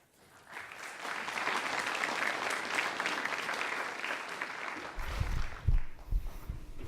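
Sustained audience applause fills a youth summit hall, a dense even wash of clapping that builds quickly and holds steady, with a few louder low thumps and stirrings near the end.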